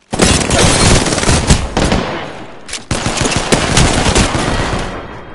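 Rapid, dense automatic gunfire from a shooter game, loud and near, bursting almost continuously with a brief break partway through.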